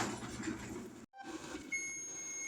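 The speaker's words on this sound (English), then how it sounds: "Now the timer's going off." A kitchen timer goes off while homemade mulberry jelly cooks on the stove, giving a steady electronic beep tone that starts partway through after a brief silence.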